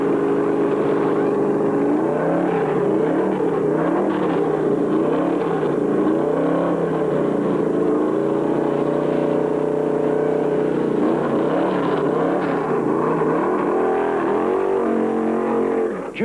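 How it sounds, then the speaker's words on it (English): A 1974 NASCAR Winston Cup stock car, number 95, pulls into its pit stall at the Carolina 500, its loud engine droning and shifting pitch steadily throughout with no talk. "Darrell Waltrip slides his number 95 through the electric I-beam and starts the clock"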